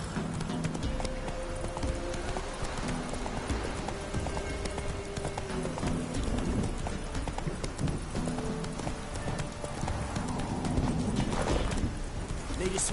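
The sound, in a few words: horse Roach's hooves clip-clopping, from the video game The Witcher 3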